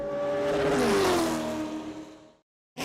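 A NASCAR race car engine screams past at high revs, its pitch dropping as it goes by and fading out, followed by a brief silence and the start of another engine roar.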